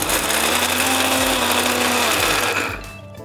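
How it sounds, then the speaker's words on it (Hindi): An electric grinder coarsely grinds pistachios and almonds, a loud steady motorized whir that holds evenly, then winds down and stops near the end. "तो चलिए अब हम इसे ग्राइंड कर लेंगे, दरदरा पीस लेना है"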